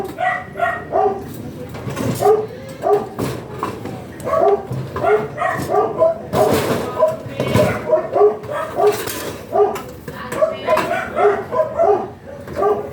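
A dog barks and yips repeatedly in quick bursts, close by, mixed with people talking in the background.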